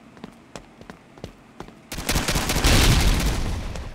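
Gunfire in the mobile shooter Pixel Strike 3D: a few sparse, sharp shots early on, then a loud, dense burst of rapid firing that swells and sustains near the end, with no talking.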